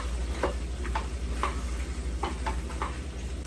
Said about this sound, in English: Give everything a good toss.